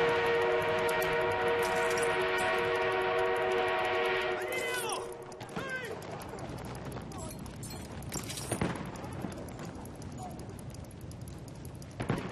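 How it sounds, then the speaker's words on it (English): In Battlefield 1, an enemy armored train sounds a long, steady whistle-like horn with rumbling rail noise, then the horn stops and an irregular clanking rumble carries on at a moderate level. "Enemy armored train is en route."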